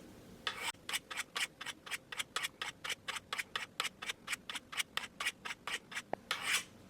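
A knife is drawn in about twenty even, rhythmic strokes across fine ceramic Spyderco Sharpmaker rods, each a short bright rasp, close and clear with no talking.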